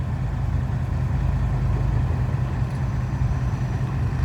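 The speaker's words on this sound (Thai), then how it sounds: "รถไถนี่" A farm tractor (rotary tiller type) engine runs steadily nearby at low idle, a continuous deep chugging rumble holding constant level throughout with no voices.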